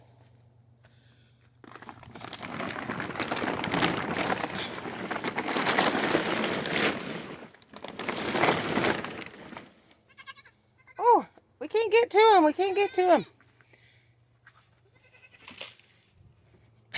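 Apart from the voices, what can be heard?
baby goats bleating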